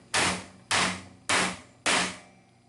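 Sheetrock nails hammered into a steel workbench: four sharp, loud metallic blows at an even pace, each ringing briefly before the next strike.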